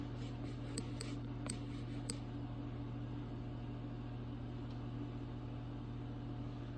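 A microwave oven hums steadily while melting chocolate, a constant low drone with a few faint ticks near the start and no talking.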